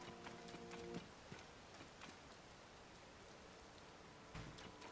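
Steady rain falling in a village in the video game Zelda: Tears of the Kingdom, a soft continuous patter with scattered drop hits, faint throughout with brief tonal game sounds over it.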